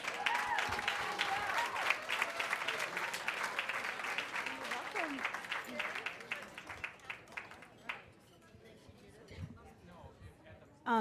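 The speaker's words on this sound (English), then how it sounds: "Give her a round of applause." Audience applause greets a speaker at a cancer survivor talk, clapping steady and full for most of the stretch, then thinning to a few scattered claps before a brief burst at the end.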